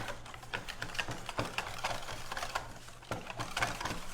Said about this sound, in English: I'm just going to start whisking this together to break up the lumps from the almond butter